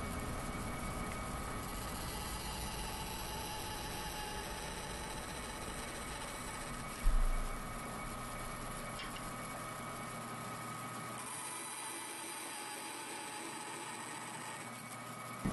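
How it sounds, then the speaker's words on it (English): A bandsaw trims small end-offs from walnut stock in a woodworking shop, running as a steady broadband motor drone with a brief louder bite near the middle before the low hum drops away late in the cut. "And while I'm at the bandsaw, I'll just cut off the little ends to save me some time at the bench."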